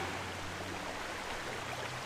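Flowing river water in Twilight Princess, in a rainy scene with waterfalls and a lake, gives a soft, continuous, even hiss with no voices.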